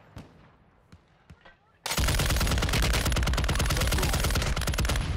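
Incoming gunfire in a video game: a few isolated sharp cracks, then a sudden loud, sustained burst of rapid automatic fire that keeps going to the end.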